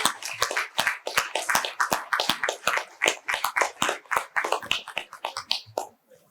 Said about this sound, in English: big round of applause for Ravi, Mr. Bhaskar Kalale